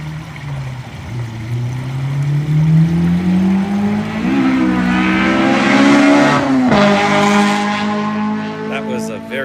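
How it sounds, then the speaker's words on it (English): A very loud car roars past close by, its engine note climbing and then falling away over several seconds, with a brief voice audible beneath it. "That was a very loud car."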